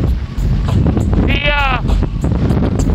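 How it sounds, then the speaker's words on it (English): Strong wind on Baffin Island roars loudly and steadily across the microphone throughout, with a brief wavering tonal wail rising in the middle. "It'd be okay with me if the wind died a little bit, though."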